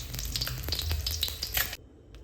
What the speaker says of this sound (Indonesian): Ini goreng telurnya sudah.